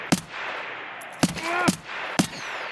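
Sharp gunshots in Escape From Tarkov on the Customs map, three or four loud single reports spaced about a second apart with short echoing tails, heard over a steady background hum.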